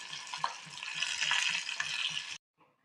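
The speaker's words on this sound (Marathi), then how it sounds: "जे पुन्हा आपण तेलामध्ये फ्राय करून घेऊया" Sliced green chillies fry in hot oil, making a bright, continuous crackling sizzle for a little over two seconds before it cuts off abruptly into near silence. No talking is heard.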